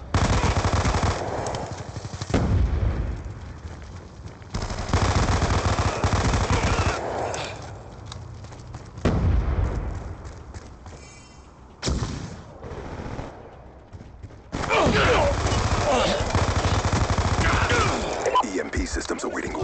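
MP7 submachine gun fire in the video game Black Ops II comes in repeated rapid bursts separated by short pauses, loud and close, with game voice callouts and other effects in between.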